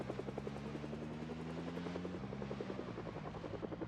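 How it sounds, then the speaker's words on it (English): Helicopter rotors in the video game Project Zomboid, a steady rhythmic chopping beat with a droning engine hum that shifts pitch slightly midway, sounding moderately distant and continuous with no talk. "zombies are attracted to those rotors from miles around"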